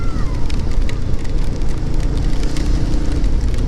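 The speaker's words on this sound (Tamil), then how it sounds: "மழை அதிகமாக அதிகமாகுது ஒன்று" Heavy rain pours down steadily in a forest during the rainy season, a dense, loud, continuous hiss of drops with no voices over it.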